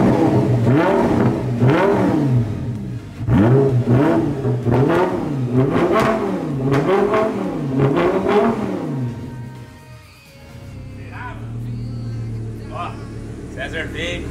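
An Audi R8 sports car engine revs repeatedly in loud, close blips that rise and fall in quick succession, then settles into a lower rumble as people talk nearby.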